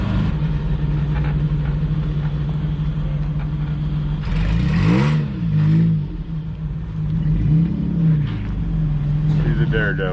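A Ford Bronco's engine drones steadily up close while crawling over desert rock, swelling into revving surges midway and again near the end, with people talking over it.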